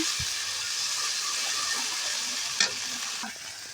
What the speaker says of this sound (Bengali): এখন আমরা দিয়ে দেবো জিরে আর রসুন বাটা। এটা ভালো করে কষিয়ে নেব।